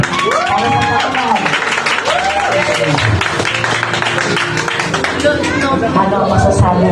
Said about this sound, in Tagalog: Gusto ko malakas na palakpak para sa kanya